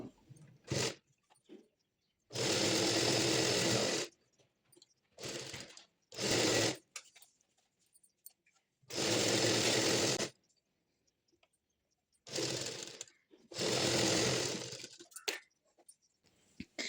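A sewing machine stitches a folded hem on a patiala pant, running in several loud bursts of about one to two seconds each, with short quiet pauses and brief handling clicks between runs.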